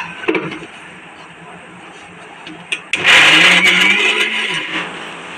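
Kitchen blender grinding bananas for a banana smoothie, starting after a few clattering knocks and then running loud and steady with a whining motor pitch that rises and falls.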